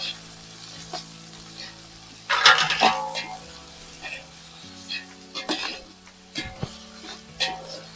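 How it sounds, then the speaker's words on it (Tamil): Ginger garlic paste sizzles and fries in a biryani pot for chicken biryani, with a spoon stirring and scraping against the metal in short bursts. A louder burst of sizzling comes early, then steady frying continues with the scraping. "இதையும் போட்டுக்கோங்க. இஞ்சி பூண்டு"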